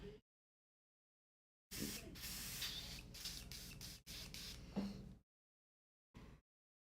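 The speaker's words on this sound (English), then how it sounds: "Doing the inside of the airbrush, a little bit of a scrub." An airbrush being cleaned of red paint gives off loud, close bursts of spray hiss broken by short pauses, then a final brief spurt after a silence, with no voices.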